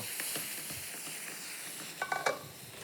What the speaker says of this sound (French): il déglace avec L'alcool de poire, équivalent d'une bonne cuillerée à soupe